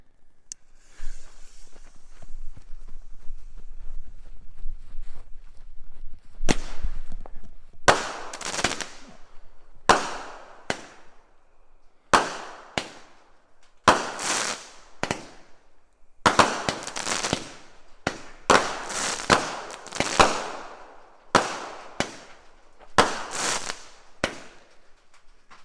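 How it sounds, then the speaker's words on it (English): A 16-shot red-top firework cake bought from a local firework tent fires about sixteen loud, sharp bursts in an uneven rhythm, each blast crackling as it decays. Faint handling sounds come before the first shot. "This is a 16 shot like red top cake."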